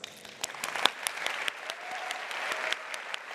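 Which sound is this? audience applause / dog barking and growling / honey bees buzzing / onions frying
audience applause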